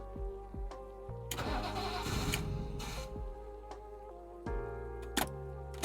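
A BMW E36 drift car with an M50 intake manifold cranks over in several uneven bursts, then catches briefly and stumbles, close and loud, with starter whine and revving surges that die back.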